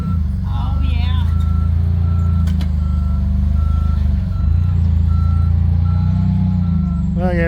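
A truck backs up at a sawmill site, its reversing alarm beeping steadily and evenly over a loud, rumbling diesel idle. Brief faint voices come through near the start and the end.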